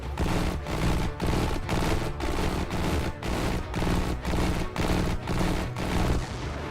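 A torpedo attack in Xenonauts 2 fills the clip with a dense, continuous barrage of rapid explosive bursts, pulsing in steady repeated waves at loud, close range, with no talking.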